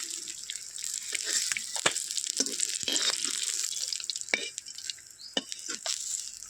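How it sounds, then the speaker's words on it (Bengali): Fried katla fish is lifted piece by piece out of hot oil in a pan, with a steady bright sizzle throughout and scattered sharp clinks and scrapes of a utensil, close and fairly quiet, with no talk. "মাছ ভাজা হয়ে গেছে বন্ধুরা এবার আমি মাছগুলোকে একে একে তুলে নেব"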